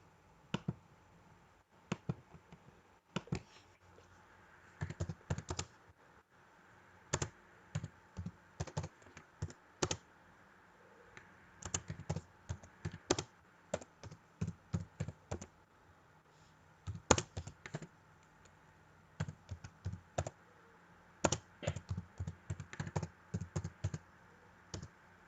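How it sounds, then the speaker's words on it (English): Bursts of typing on a computer keyboard come in short rapid clusters separated by pauses, fairly close and clear over a quiet room with no talk. "I'll type it down."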